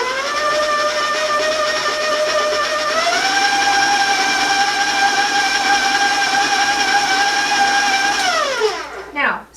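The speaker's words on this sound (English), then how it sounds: "Now we'll really want to make sure that we're creaming and bringing the 2 sugars with the butter together." Electric mixer creaming butter with two sugars for an apple cinnamon spice cake, a loud steady whirring drone that rises in pitch partway through, then winds down and stops with a clatter near the end.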